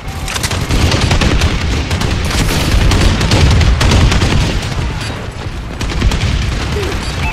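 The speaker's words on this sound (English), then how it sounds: "Friendly bombing run incoming." Dense barrage of booming explosions and rapid gunfire in a Call of Duty multiplayer match during a friendly bombing run, loud and continuous with layered blasts rolling over one another throughout.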